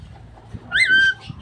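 A magpie calls outside, a short, clear warbling whistle rising briefly mid-moment over quiet background, heard somewhat at a distance.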